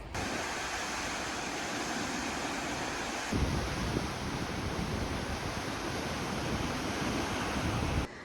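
A constant roaring rush of falling water fills the whole stretch, dense and loud like a nearby waterfall, with no voices, at a roadside stop in northern Manitoba between Gillam and Churchill.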